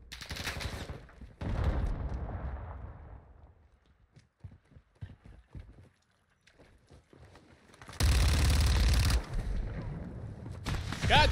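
Rapid automatic gunfire in a Modern Warfare II multiplayer match comes in loud, sustained bursts at the start and again near the end, with sparser scattered shots and quieter gaps in between.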